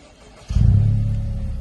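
Honda Civic Type R FK2 engine heard from the rear, starting or catching after a quiet moment and settling into a steady low, soft rumble, close and alone.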